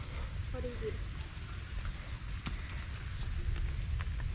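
Steady thunderstorm rain pours down with a dense, hissing patter, constant throughout, with a few faint voices murmuring underneath.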